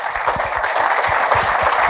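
A crowd claps steadily throughout, dense and loud applause filling the whole stretch without pause.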